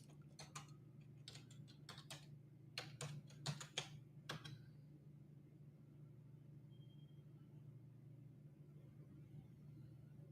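Quick, light clicks of typing on a computer keyboard for a few seconds, then stopping, over a steady low hum in a quiet room.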